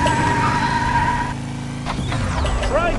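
A race car driving in the children's video game PJ Masks Hero Academy, with a steady engine drone, tire squeal and bright game chimes layered over a continuous loud mix.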